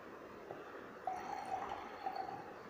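Water pours in a steady trickling stream, with a louder splashy burst and a second shorter pour of two glasses of water, set against a soft background hiss.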